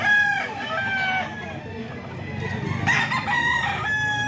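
A young rooster (stag) crows loudly and nearby, then gives a couple of clucks, with a second crow starting toward the end, in an outdoor banded chicken yard.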